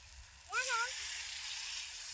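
Food frying in a pan while cooking outdoors with children, a loud, steady sizzle that bursts in and holds, with a brief squeaky sound at its start.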